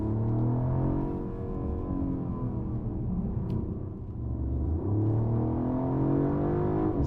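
Mercedes-Benz CLE 450 Coupe in sport mode, its engine revving and pulling hard in a loud steady rumble that rises and falls as it accelerates through corners, heard from inside with no talk.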